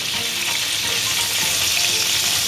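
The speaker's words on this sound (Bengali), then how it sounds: "তাই আমি একসাথে ফ্রাই প্যানে ভাজতে দিয়ে দিলাম।" Mixed-size prawns frying in a frying pan, a steady close-up hiss and sizzle of hot oil with light crackling throughout and no talking.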